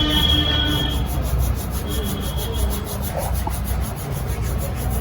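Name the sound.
rubbing carom seeds (ajwain) between hands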